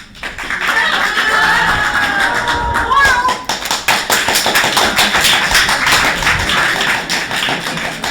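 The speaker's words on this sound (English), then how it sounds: "If you want Isaiah to leave, clap loud." Improv comedy audience at an open mic show clapping loudly to vote, a dense burst of applause that swells and carries on for several seconds with voices over it.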